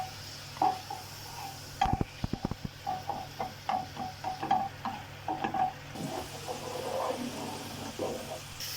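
Ginger paste frying in oil for a minced meat stuffed pepper filling, a low sizzle under repeated clinks and scrapes of a spoon stirring the pan.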